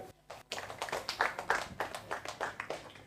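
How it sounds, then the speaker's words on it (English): A small start-up accelerator audience claps for a presenting company: a quiet scatter of individual hand claps at an uneven rhythm, fairly close but soft, with no talking. "Please clap for Ruth CSM."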